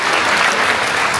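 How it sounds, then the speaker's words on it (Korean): Wedding guests break into loud, dense applause, a close and continuous burst of many hands clapping at once. "큰 박수 부탁드리도록 하겠습니다"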